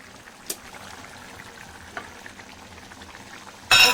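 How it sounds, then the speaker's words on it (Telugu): Three beaten eggs poured into a simmering tomato and green chilli curry, a quiet steady bubbling and sizzle with a couple of faint clinks, then a sudden louder burst at the end. "సో ఇక్కడ మేము మొత్తం 3 ఎగ్స్ అయితే వేస్తున్నాం."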